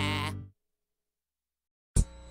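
A goat bleats loudly in a TV commercial for Reese's Puffs cereal, one drawn-out wavering cry followed by silence, then a short sharp sound starting at the end.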